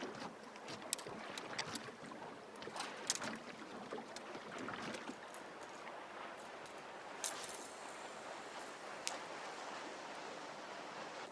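Water sloshes and slaps against a small fishing boat hull in uneven bursts from passing boat wakes, with wind rushing across the microphone throughout.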